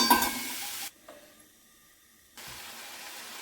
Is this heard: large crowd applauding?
no